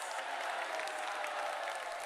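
A crowd at a Bageshwar Dham devotional evening claps and makes noise together, a continuous, even roar of clapping and voices with no clear breaks.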